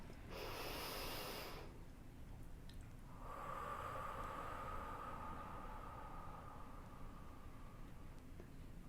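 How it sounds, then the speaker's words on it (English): A long, deep breath during a relaxation meditation: a loud breathy inhale lasting over a second, a pause, then a slow, steady exhale that fades out, heard close and alone. "Take one more big deep breath."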